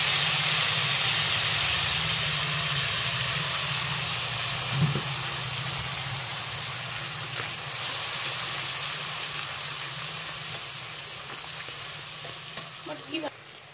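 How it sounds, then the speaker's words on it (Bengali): A chili and cumin paste sizzles and hisses steadily in hot oil over bay leaf and black cumin, with occasional stirring scrapes, close and continuous, slowly easing off. "তেজপাতা আর কালো জিরার উপরে দিয়ে দিব এই মরিচ বাটাটা"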